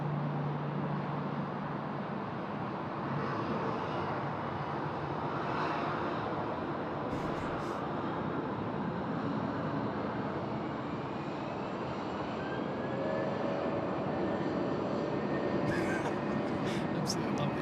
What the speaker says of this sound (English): Jetstar 956, runway 16 right, clear for takeoff.